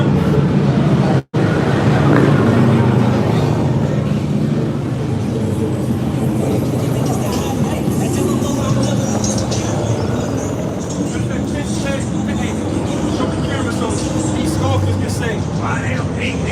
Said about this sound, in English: clearly a bunch of traffic